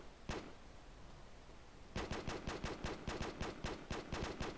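Rapid automatic gunfire in a Call of Duty Modern Warfare 3 online match, with one lone shot followed by a long, evenly spaced burst of hip-fired rounds, faint and somewhat distant.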